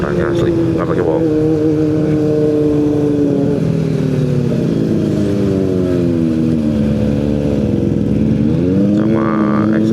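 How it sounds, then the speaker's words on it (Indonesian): A Kawasaki ZX25R motorcycle engine drones loudly and steadily nearby during a road trip from Bali toward Kintamani, with pitch rising and shifting as it passes, and people talking over it. "Kalau dari suaranya sih ZX25R ya. Enak banget suaranya asli"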